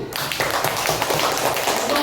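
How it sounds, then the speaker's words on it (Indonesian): Classroom applause for the first student group after their presentation on the conquest of Makkah, a dense burst of many hands clapping close by, steady and continuous for about two seconds. "Tepuk tangan untuk kelompok satu"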